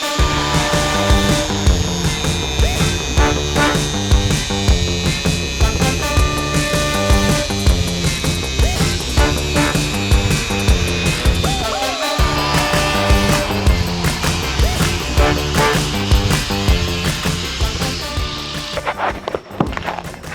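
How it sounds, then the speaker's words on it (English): Angle grinder cutting down a steel combat robot weapon blade, a loud continuous grinding whine with rough pulsing texture for about twenty seconds, winding down near the end. "So let's fire up the grinder and cut it off."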